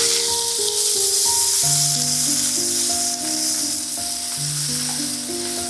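Coriander (kothmeer) stems and leaves wilting in hot oil give a steady, bright sizzle and hiss close up, with no voices.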